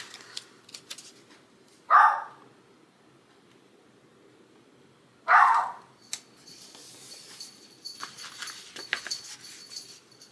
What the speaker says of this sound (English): that dog's going to drive me insane.